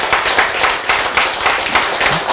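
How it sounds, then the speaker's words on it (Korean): An audience clapping together indoors at a lecture, a dense and loud run of applause that holds steady without voices. "박수 한번 쳐야 되죠."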